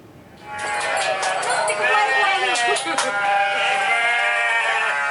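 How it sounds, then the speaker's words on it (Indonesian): Hundreds of goats bleat as they crowd out of their pen onto a village road toward the forest in Suren, Ponorogo, East Java. Overlapping cries fill the scene continuously and loudly, with voices mixed in. "Ratusan kambing berebut keluar kandang memenuhi jalan desa menuju hutan desa Suren, Ponorogo, Jawa Timur."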